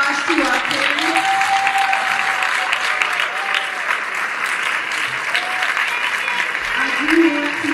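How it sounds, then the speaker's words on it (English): Audience applause for the panelists at a mayoral candidates' forum in Chicago: steady, moderately loud clapping from a crowd, sustained throughout with a voice speaking over it. "So please give a round of applause to our panelists."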